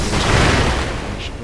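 Firecrackers go off in Sekiro, a short, loud cluster of crackling pops and booms close up, fading out after about a second.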